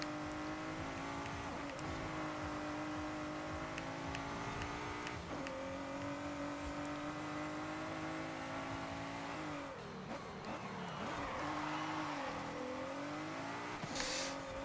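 A 2015 Ford GT drives in the racing game Forza Horizon 5, its engine droning and revving steadily up and down through gear changes, with a brief dip and a tire squeal near the end, and no talking.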